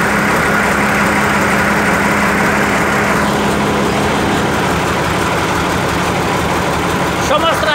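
Engine of a homemade articulated tractor idling steadily, a loud continuous low rumble with a constant hum that holds unchanged from start to finish, close by.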